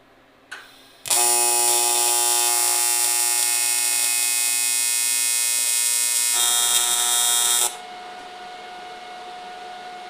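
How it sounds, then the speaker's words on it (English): A MIG welder tack welding a transmission oil catch can for a turbo 5.3 LS drag car: one sharp click, then a steady loud buzzing hiss for about six seconds that cuts off, leaving a low hum. "whether I'm going to just weld this whole thing or if I should kind of make it into the box first"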